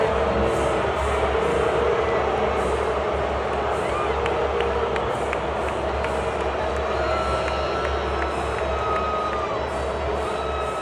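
Super Bowl stadium crowd booing, a dense, steady roar of massed voices filling the whole stretch at constant loudness, with no single voice standing out.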